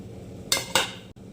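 Onion, garlic, ginger and chili pastes going into a pan for a Bengali mutton dish, two quick scraping clinks of a utensil against the pan, then a brief pause.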